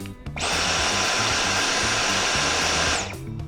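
A Dyson Omni-glide cordless vacuum runs below maximum power with a steady, loud, high whirring hum. It spins up quickly, holds level for about two and a half seconds, then winds down, with nobody talking.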